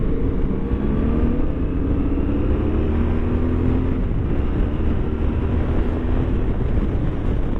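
Yamaha Tenere T7 motorcycle engine under way, loud, steady droning rumble with slowly shifting pitch as the bike is ridden, close-up with heavy wind noise.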